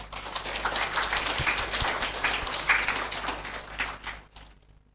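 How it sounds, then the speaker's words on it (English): Lecture audience applauding steadily for about four seconds, a dense wash of claps that tapers off toward the end, with a low hum running underneath. "Give applause, please."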